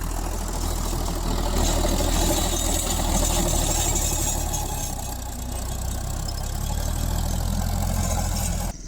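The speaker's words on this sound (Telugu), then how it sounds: "చూసారా మొత్తం గట్టు గట్టు ఎలా లేపేస్తుందో ట్రాక్టర్." A tractor engine works in a field raising bunds, running as a loud, steady low rumble throughout with no talking.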